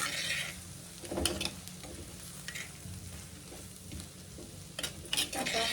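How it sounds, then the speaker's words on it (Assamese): Grated coconut is stirred into beans and whole moong dal frying in a pan: a steady sizzle with intermittent scraping and clinks of a spoon against the pan, close up and without talk. "ইয়াতে নাৰিকলখিনি দিম তাৰপিছতে অলপমান এনেকৈ লৰাই দিম ধুনীয়াকৈ"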